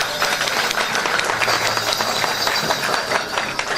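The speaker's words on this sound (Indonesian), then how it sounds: "Tepuk tangan untuk Ibu Garma Bangga" An audience at a traditional arts training event at Borobudur gives a loud, sustained round of dense applause, close and continuous throughout.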